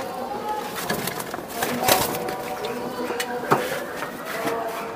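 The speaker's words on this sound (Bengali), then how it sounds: "দর্শক, এই যে দেন কবুতরগুলো আমি দেখাই দিলাম" Racing pigeons cooing in a loft, soft repeated coos close by under someone talking, with a constant busy background hum.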